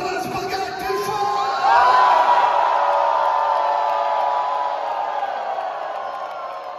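A huge concert crowd at Mediolanum Forum in Milan shouts and cheers together, a dense roaring wall of voices that swells into one long sustained yell and slowly fades.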